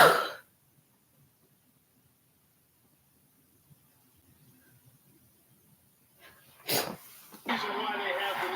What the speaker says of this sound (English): Sorry to sneeze.